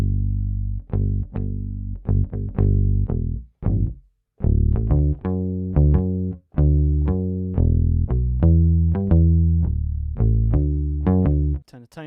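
Native Instruments Rickenbacker virtual bass with tape saturation plays a run of plucked notes with a warm, slightly saturated, gritty tone, steady and loud with brief gaps between phrases.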